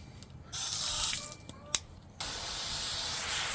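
Garden hose spraying water onto a grill for cleaning, a close, loud hissing spray that cuts in and out in short bursts before running steadily.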